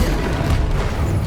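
A Confringo blasting spell explosion from Hogwarts Legacy, heard as a dense, loud, rumbling burst of broadband noise sustained for just over a second without any clear separation into distinct hits.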